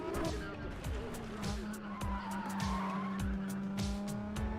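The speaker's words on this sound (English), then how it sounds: "I love the sound of this car as well." Nissan with a VQ V6 engine racing in Need for Speed ProStreet: a steady, loud engine drone runs throughout with repeated tire squeals and skids, close and dense, with no talking.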